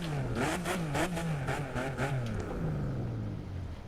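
An Alfa Romeo car in The Crew 2 accelerates hard, its engine note climbing and dropping through several quick gear changes, then settling into a steadier, falling drone as it cruises.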